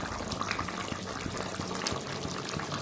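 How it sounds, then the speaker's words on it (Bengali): Fish curry broth bubbling at a steady boil in a pot, a dense continuous simmering hiss with faint intermittent pops, close and moderately quiet, with no talk. "এই দেখো মাছ দেওয়ার পর ঝোলটা ফুটছে"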